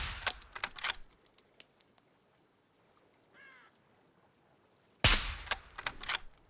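Gunfire in the SCUM survival video game: clusters of sharp, close gunshot cracks at the start, a near-silent gap, then another loud burst of shots at the end.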